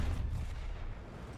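Booming tank cannon shot from a video game, a heavy low blast with a rumbling tail that fades over a second or so, heard alone.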